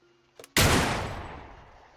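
A single loud gunshot in a video game, a sharp burst that decays over a second, preceded by faint brief sounds.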